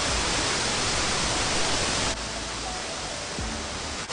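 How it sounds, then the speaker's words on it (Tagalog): Constant broadband rushing of a waterfall with a strong flow, a dense steady roar with a slight change in tone partway through and no talking. "malakas ang agos ng tubig sa talon"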